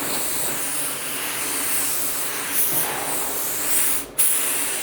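A low-cost LVLP paint gun at half trigger pull sprays in a steady, loud, close hiss of air, with one brief break near the end before resuming.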